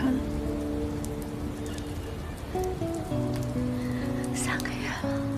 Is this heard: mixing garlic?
no